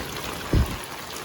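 Light rain falling outdoors just after a storm, a soft, steady hiss of drizzle with one brief low thump partway through.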